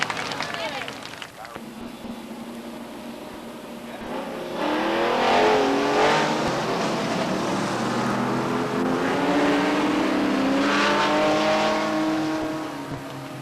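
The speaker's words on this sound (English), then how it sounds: "All clear from flagman Eddie Walsh as the cars work down to turn 3" Stock race cars run at Beech Ridge Motor Speedway in 1991, their engines roaring loudly and steadily as the pack works through a turn, while a public-address announcer talks over the noise.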